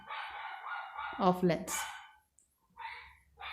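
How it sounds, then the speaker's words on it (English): A dog barks a few times in the background during a physics lecture on lenses, with a voice talking over and around the sharp yips. "My dog is barking like anything."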